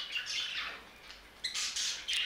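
A budgerigar named Pastel gives sharp, bright squawks while courting, with a couple of bursts early and louder repeated calls near the end, close by and otherwise quiet.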